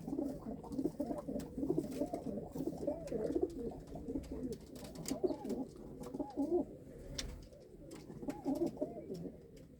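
Pigeons coo in a loft, soft repeated rolling calls overlapping from several birds nearby, with light rustling and occasional clicks in the background.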